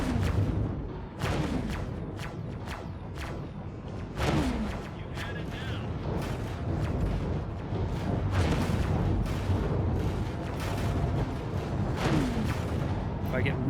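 Repeated heavy plasma cannon blasts in the space game X4: Foundations, a series of sharp booming impacts at irregular intervals, with someone talking over the gunfire throughout.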